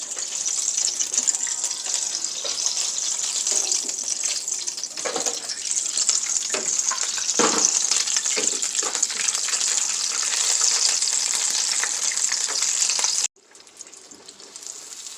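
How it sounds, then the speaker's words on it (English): Cajun chicken boudin balls fry in hot oil, giving a dense, continuous sizzle and crackle that stays loud and steady before dropping suddenly near the end. "I'm gonna fry something up and let y'all see how it look."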